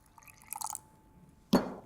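Warm water splashes briefly into a bowl of bread dough mix with soft butter, eggs and oil, a short close liquid gush after quieter clinks.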